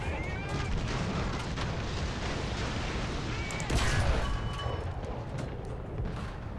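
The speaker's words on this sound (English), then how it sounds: "Yeah, artillery's coming right around me." Artillery shells land around a tank in the War Thunder tank game, a dense stretch of rumbling blasts and gunfire with a heavier boom near the end, loud and continuous, with faint talk mixed in.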